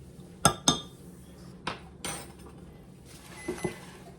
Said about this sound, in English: We're gonna give this a stir.